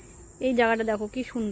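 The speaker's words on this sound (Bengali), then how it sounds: "কত ঝিঝি পোকার ডাক" Crickets keep up a steady, high, continuous chirping drone among trees beside a quiet township walking path, heard throughout beneath a person speaking nearby.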